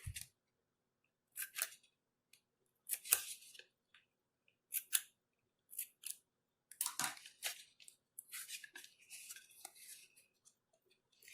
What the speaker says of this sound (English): Cut some notches in the tape.